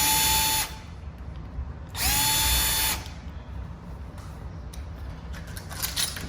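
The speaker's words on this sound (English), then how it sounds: "and you just drill it out." A power drill backs screws out of a smart key deadbolt in two loud, steady whirring bursts, the first short and the second about a second long, with quieter handling noises in between.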